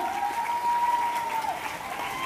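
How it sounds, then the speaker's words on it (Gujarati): An audience at a student award ceremony in Anand applauds steadily, with many hands clapping at moderate volume while a thin, sustained whine hangs over the first part. "જોરદાર તાળીઓ માટે વધાવી લઈએ"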